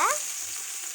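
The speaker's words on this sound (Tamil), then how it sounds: "இப்போ வெங்காயம் போட்டுக்கலாம்." Onions drop into hot oil for mutton biryani and set off a sharp sizzle that settles into a steady, close frying hiss for under a second.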